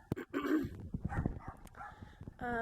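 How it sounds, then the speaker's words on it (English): Dogs bark in sharp, repeated bursts, fairly close and loud, mixed with yips and some whining. "I am so sorry that my dogs are barking like that."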